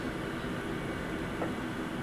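A passenger train in a video game approaches its station with a steady, low, rumbling drone and faint clatter, continuous and moderately loud for two seconds, with no voices.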